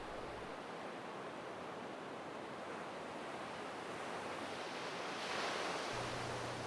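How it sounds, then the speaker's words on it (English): Ocean waves washing ashore in a continuous soft hiss of surf, steady and broad with a slight swell near the end, no voices. "Are the waves gently crashing?"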